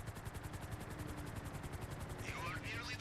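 A helicopter in the video game GTA 5 gives off a rapid rhythmic rotor chop, a steady and fairly loud drone throughout, with a high whistling sweep near the end.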